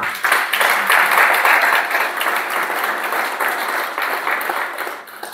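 A church congregation applauds and cheers for Jesus, a dense, sustained wash of clapping and voices that stays loud throughout and tapers slightly at the end.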